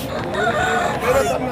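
A rooster crows once, close and loud, at a village country-chicken market in Anakapalli district, with market noise around it.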